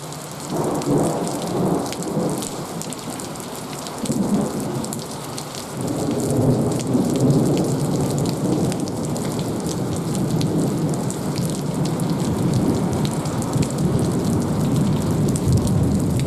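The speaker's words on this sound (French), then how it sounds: "Certains coups de tonnerre positifs sont si forts qu'ils font trembler le sol, les murs ou les vitres du bâtiment" Heavy rain pours steadily through a thunderstorm while deep thunder rolls and rumbles, the downpour swelling louder about halfway through and staying dense to the end, with no voices.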